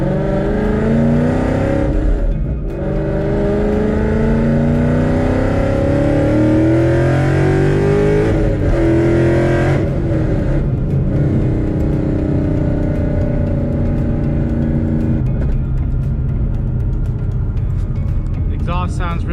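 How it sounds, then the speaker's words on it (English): A Procharged Ford Mustang with a 5.0 V8 pulls hard while driving, its raspy exhaust rising through repeated accelerations with supercharger whine, loud and close from inside the car, with brief lifts between pulls. "Exhaust sounds real nice and raspy."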